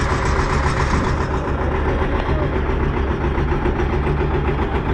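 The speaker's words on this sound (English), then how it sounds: "Started the pony motor and then started the diesel motor." John Deere 3010 tractor diesel engine running after a pony motor start, a loud, steady close-up idle rumble with a continuous mechanical chug and no break.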